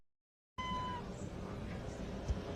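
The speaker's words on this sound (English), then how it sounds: "Look at this little kitten." A little kitten gives a short, thin meow up close, followed by quiet room noise.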